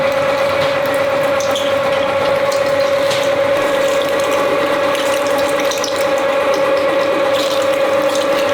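A sausage machine grinds meat for sausages at a butcher's shop, a loud continuous mechanical whirring drone with a steady ratcheting texture throughout.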